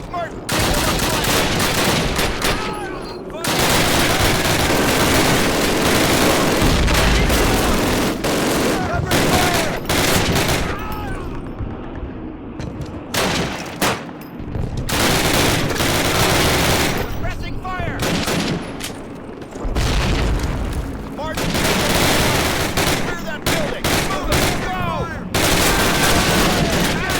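A squad opens fire in the PC game Call of Duty 1, with loud, sustained rifle and machine-gun bursts in long volleys, brief lulls between them, and shouted voices over the shooting.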